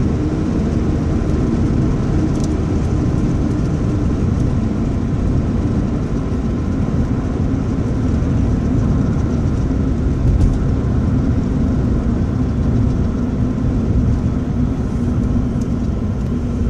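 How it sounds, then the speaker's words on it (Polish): Steady broadband wind roar from a roof-mounted luggage rack on a car driving at about 80 km/h, loud and continuous throughout with a low engine and road rumble underneath and no talking. "Nie wiem, czy słyszycie taki szum, to jest na dachu bagażnik zamontowany."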